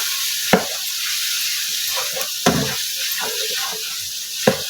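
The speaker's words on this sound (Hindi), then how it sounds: "इसको अच्छी तरह से मसाले को इसमें मिक्स करूँगी" Beef being stirred with spices in a hot frying pan, a steady sizzle running throughout with a few sharp scrapes of the spoon against the pan at intervals.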